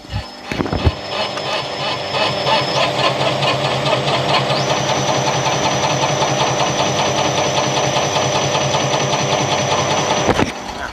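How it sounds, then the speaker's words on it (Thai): A diesel engine in a Toyota Vigo Champ, after fuel injector repair, idles at about 300 rpm, a steady knocking drone running continuously for several seconds, loud and close, with a sharp clank near the start. "รอบเครื่องยนต์นะครับ อยู่ที่ 300 รอบนะครับ"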